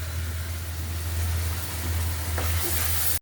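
Dry ground spices (turmeric, coriander, cumin and chili powder) fry in hot oil for a hilsa curry, giving a steady close hiss over a strong low droning hum before stopping abruptly.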